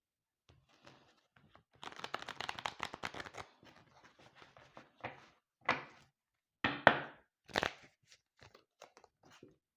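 A deck of tarot cards is cut and shuffled by hand. Close, dry rustling and flicking bursts come in clusters with short pauses, ending in a few sharper slaps of cards.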